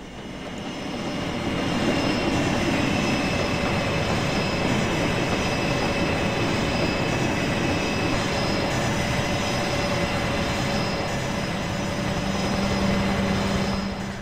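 Train pulling into a station in the Trainz 2 video game, a steady loud rolling rumble with a faint whine of running gear, continuing unbroken for over ten seconds without speech.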